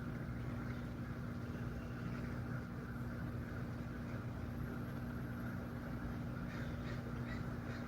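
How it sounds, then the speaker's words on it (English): Crows cawing outdoors on a rainy day, harsh calls faint and distant under a steady broad hum and background noise, with no speech. "we've had a fucking swarm of crows lately, like literally like thousands of crows"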